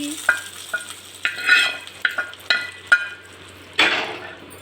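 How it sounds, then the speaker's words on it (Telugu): Dried red chilli and curry leaves tempering in hot oil with cumin and mustard seeds for a chutney, crackling in sharp irregular bursts over a low sizzle, close and fairly loud with no talk. "కొద్దిగా ఒక ఎండుమిర్చి కరేపాకు వేసామంటే టేస్ట్ చాలా బాగుంటుంది"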